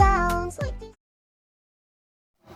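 A voice imitates a cat's meow, giving a short, loud, close two-part mewing call, followed by silence and a faint onset of sound at the end.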